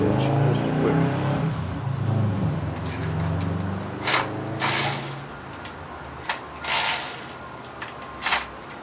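Ratchet backing off the valve cover bolts on a 2014 Chevy Cruze, heard as close, bursty clicking pawl runs with metallic mechanism noise, starting busy and ending in several short separate spurts.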